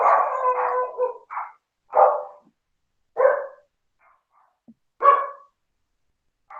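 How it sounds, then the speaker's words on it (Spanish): A small dog barks in short, sharp, separate bursts, about six yaps spread over several seconds with quiet gaps between them. The barking is fairly close and clear, with no talking. "Ay, Jessica, qué susto con ese perrito."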